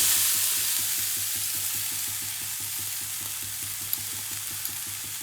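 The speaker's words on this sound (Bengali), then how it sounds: "সবজির সাথে ভাতটা ঠিক এরকমভাবে হালকা হাতে মিশিয়ে নিতে হবে" Leftover cooked rice being stirred into fried vegetables and peas in a pan, a soft sizzle running under rhythmic scraping strokes of a spatula, close and steady, with a couple of sharper clicks near the end.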